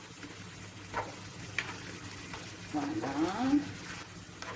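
Beef sears in a pan with garlic and onion while being stirred, a soft, quiet sizzle broken by utensil scrapes, with a short spoken word partway through.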